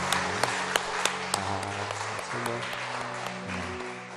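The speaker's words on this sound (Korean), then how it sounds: "전순희 시인을 위해서 박수 한번 좀 쳐주세요." Audience applause for a poet at a Sunday afternoon church gathering, a dense, steady patter of many hands clapping at moderate volume, with a few sharp individual claps standing out and low tonal hum beneath.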